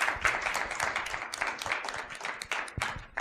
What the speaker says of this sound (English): can we have another round of applause for Frank Piccininni?